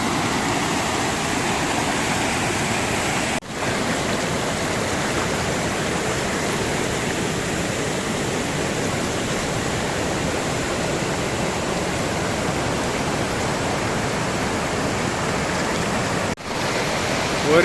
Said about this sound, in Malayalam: അടിപൊളി വെള്ളച്ചാട്ടം